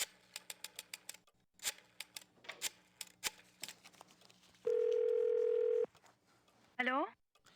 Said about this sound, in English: Finally, we can make a phone call.